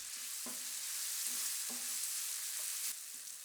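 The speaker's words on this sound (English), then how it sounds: "Add the mushroom bacon and let cook for a few minutes, or until it starts to turn a nice golden brown." Mushroom bacon fries in a pan with a soft, steady sizzle and light rhythmic stirring or scraping taps repeating every second or so, fairly faint and close.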